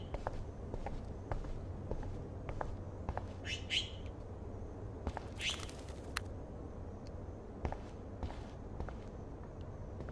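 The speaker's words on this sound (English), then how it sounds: "Oh no, that poor little bird has been trapped in here." A small bird trapped indoors chirps in short, high bursts at a few moments, set against repeated footsteps and a low steady room hum in the Life is Strange video game.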